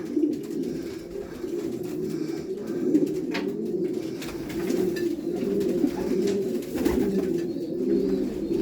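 Racing pigeons in a loft coo steadily and close, their low, throaty calls overlapping in a continuous murmur with no talking.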